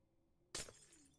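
A Minecraft glass block breaks with a single sharp, bright shatter and a short tinkling tail, rising abruptly out of a quiet background.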